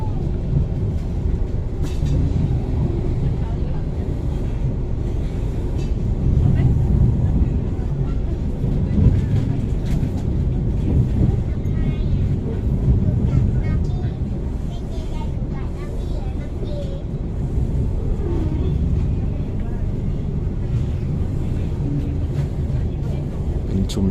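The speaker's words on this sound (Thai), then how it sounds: "ขบวนขึ้นเข้าสู่สถานีปลายทาง สถานีกรุงเทพอภิวัตรอย่างช้าๆนะครับ" A train slowly pulling into Krung Thep Aphiwat terminal station gives a continuous low rumble with faint rail clatter, steady and close, while someone talks over it.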